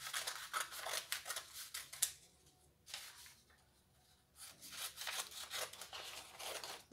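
Scissors cut through fabric for a child's romper: close, crisp repeated snipping and rubbing strokes in bursts, pausing briefly in the middle before resuming, with no talking.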